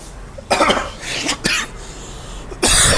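Bug spray hissing from an aerosol can in several short bursts, the last one longer and louder, close to the microphone.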